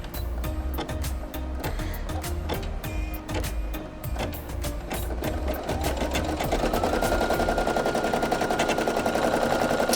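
A Brother PE800 embroidery machine stitches an applique, its needle running in a fast, steady mechanical chatter that fills the whole stretch, loud and close, with no talking.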